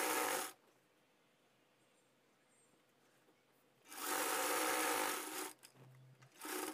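Sewing machine stitching along the folded lining edge of a size 36 boat neck blouse: a brief stitching run, a quiet pause of about three seconds, then another longer run and a final short burst.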